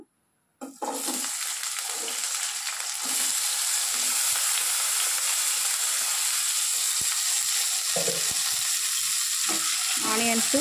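Onions frying in hot oil for a prawn fry, a steady broadband sizzle starting after a brief silent moment and holding loud throughout, with occasional stirring scrapes and clinks near the end.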